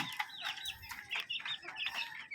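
A flock of chickens clucking and squawking busily while being fed, with overlapping close calls in a quick irregular stream.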